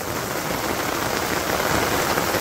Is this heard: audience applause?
no